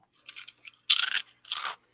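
Crunchy fried seaweed tempura snack with mushroom and black pepper flavoring chewed close up, several sharp, crisp crunching bites in separate bursts with quiet gaps between them.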